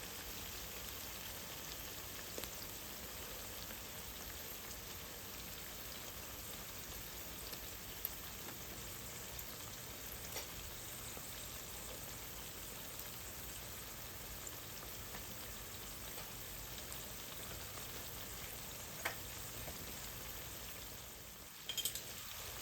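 Tomatoes sizzle and crackle in a hot pan of frying sardine gravy, a steady soft hiss with scattered pops, plus a brief clink near the end.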